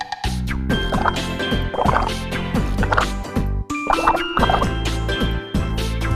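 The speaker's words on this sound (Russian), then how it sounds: "Начнем пускать пузырьки." Bubbling, gurgling bursts of air blown through a straw into soapy water, with drips and a steady musical tone underneath.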